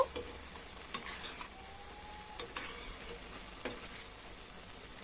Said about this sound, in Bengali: এবার খুব ভালো করে চিনির শিরার সঙ্গে বুন্দিওগুলোকে মিশিয়ে নেব